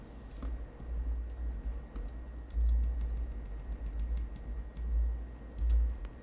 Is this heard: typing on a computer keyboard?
yes